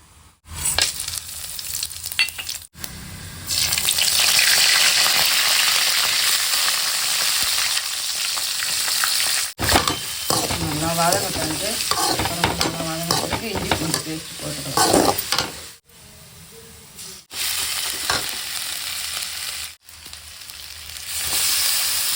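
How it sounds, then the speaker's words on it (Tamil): Tempering and frying a curry base for mutton kuzhambu in a hot pan, a loud steady sizzle with stirring scrapes and bursts of crackling, broken by a few brief pauses and quieter stretches. "இட்லி வேகத்துக்குள்ளே குழம்பு தாளிச்சு விட்டுறேன்"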